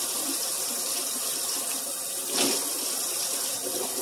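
Hot tap water runs steadily into a kitchen sink drain while a baking soda cleaning mixture is being prepared, a continuous close splashing rush with no voices.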